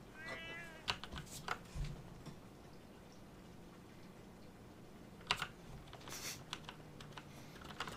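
A cat meows faintly in a quiet room during a live game stream, with a short mew near the start, amid scattered computer keyboard clicks and soft background noise.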